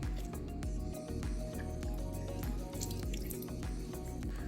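Juice drips from a freshly squeezed, very juicy lemon held upside down, giving quick small drips and soft squishy ticks that repeat in an uneven rhythm at close range.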